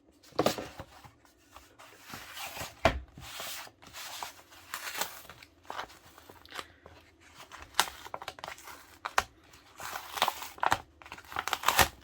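Crinkling and tearing as a fabric cuts package is cut open and unwrapped, irregular rustles and snips of plastic wrapping, close and moderately quiet with no talk.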